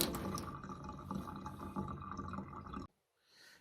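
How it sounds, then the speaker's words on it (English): Water pours steadily from an electric water heater for about three seconds, a dense continuous splashing and trickling close by, then cuts off abruptly and is followed by a faint quiet tail. "if I switch it on, we get some water flowing."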